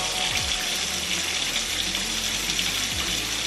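Water squeezed from a mop by a spinning wringer in a mop bucket, heard as a steady, loud, close rush of splashing water with a few low thumps and no talking.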